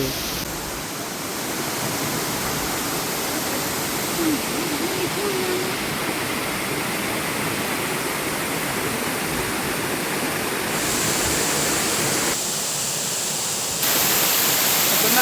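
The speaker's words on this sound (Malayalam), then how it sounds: "ഇവിടെ കാട്ടരുവിയുണ്ട്" Steady rushing water of a forest stream in Chimmini flows close by, a constant broadband roar that barely changes throughout.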